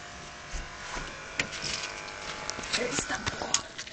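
Electric clippers shave a dog during home grooming, a faint buzz with scraping and handling sounds while people talk nearby.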